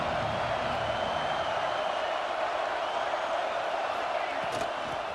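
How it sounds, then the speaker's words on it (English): A stadium crowd cheers in the College Football 26 video game, a steady, loud, unbroken roar that holds at the same level throughout. "This crowd ready to make its presence known."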